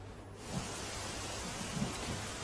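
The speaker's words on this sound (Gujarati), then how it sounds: "પોરબંદર શહેર અને જિલ્લામાં ધોધમાર વરસાદ વરસી રહ્યો છે." Heavy rain pours down over Porbandar city, a dense, even downpour hiss with a low rumbling undertone, fairly faint and continuous, with no voices.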